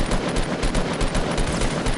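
Rapid automatic gunfire in the video game Fortnite, a dense continuous stream of loud close shots lasting the whole two seconds, with no speech.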